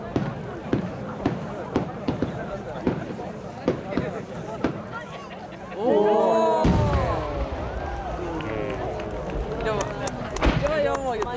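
Aerial fireworks shells bursting at the 87th national fireworks competition, a series of sharp booming reports early on, then a heavy blast followed by crackling and whistling effects, with crowd voices underneath.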